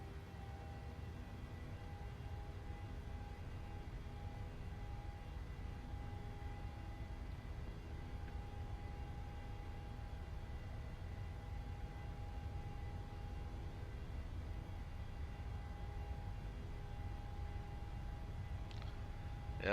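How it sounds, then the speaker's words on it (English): Simulated Boeing 737 jet engines, a PMDG model in Microsoft Flight Simulator, spooling up to takeoff thrust as a steady, even roar with a constant whine, heard from the cockpit and holding level throughout. "Let's go ahead and advance the throttles"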